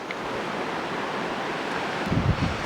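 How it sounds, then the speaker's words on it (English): A creek flowing past a campsite, a steady, soft wash of moving water with gentle gurgles swelling briefly near the end, no voices over it. "Just show you the creek real quick."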